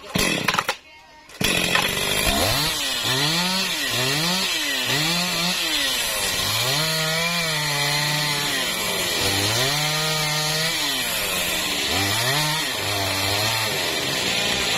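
A chainsaw cuts through a jackfruit tree trunk outdoors, the engine revving up and down in repeated rising and falling surges, loud and close, after a brief pause at the start.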